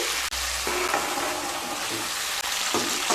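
Cauliflower and fried eggs sizzle in a pan while being stirred, a continuous close frying hiss broken by a few scraping stirs, with no voices.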